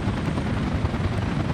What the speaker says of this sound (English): Oh, the helicopter's doing it.